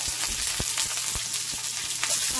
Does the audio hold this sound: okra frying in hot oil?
yes